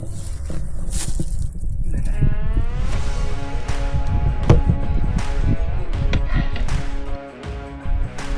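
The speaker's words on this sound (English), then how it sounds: "My goat buddies are right off on the other side of that little bridge over there." Goats bleat repeatedly from just across a small bridge near Goose Lake, drawn-out wavering calls over a loud, busy outdoor background of rustling and movement, with a brief quieter moment near the end.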